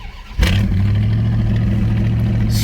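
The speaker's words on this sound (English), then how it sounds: "give you an idea of how easy this starts on a cold start." A 1981 Chrysler Cordoba with a 360 V8 cranks briefly and catches on a cold start, then settles into a loud, steady high idle close by.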